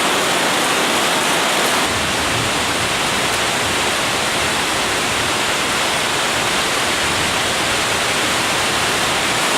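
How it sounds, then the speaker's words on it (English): Heavy rain pours down in a dense, steady hiss that fills the whole stretch without letting up, close and loud, with no voices. "This rain is ruining my video."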